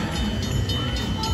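Train sound effect from a Monopoly slot machine in a Las Vegas casino, played on landing on the B&O Railroad space: a steady rumbling, chugging rail noise, fairly loud and continuous throughout.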